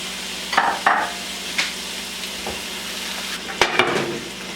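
Raw chicken pieces, partly frozen, dropping into a hot pan for a coconut curry, with scattered sharp sizzles and splatters over a low steady background, a few louder bursts near the start and end.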